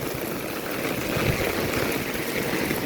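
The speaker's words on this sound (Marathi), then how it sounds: "आणि पाऊस खूप मुसळधार ते अति मुसळधार पाऊस झालेला आहे चालू." Very heavy downpour in a village, with water streaming and pooling; a steady rushing wash of water continues throughout, fairly close and without speech.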